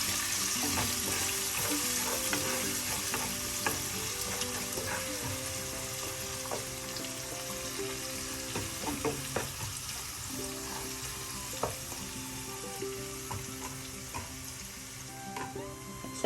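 Ginger and curry leaves stirred in a frying pan while making rava upma, a steady soft sizzle running throughout with scattered light scraping and clinking of a spoon against the pan.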